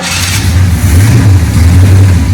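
A 1967 Camaro RS/SS convertible engine runs loud and close, a low rumbling idle that swells into a short rev and settles back, with no talking.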